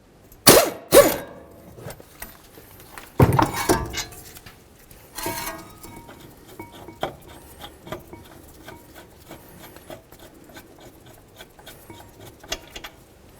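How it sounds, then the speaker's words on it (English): Metal caliper bracket bolts, 22mm, being worked loose and handled on the front brakes of a 2012-2020 Nissan Pathfinder: a few sharp clanks and clinks early on, then softer scattered taps and rubbing, close and with no talking. "Remove your bolts and your caliper bracket, inspect both, set them aside"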